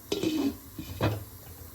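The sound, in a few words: lid placed on pot of jackfruit biryani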